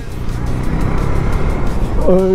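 A 2019 KTM 390 Duke single-cylinder motorcycle pulls away hard, its engine note rising and droning loudly and close for a couple of seconds as it accelerates.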